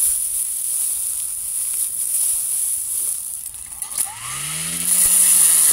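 An electric lawn mower cuts grass with a steady high-pitched motor whine and rough chopping rustle, close and loud, and near the end the motor's pitch drops as it slows, then rises again.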